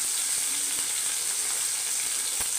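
Onions and green chillies sizzling in a frying pan of hot oil, a steady close hiss and crackle running throughout with no voices.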